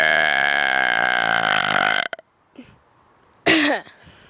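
A long, loud human burp lasting about two seconds, followed by a short pause and a second brief, forceful burp.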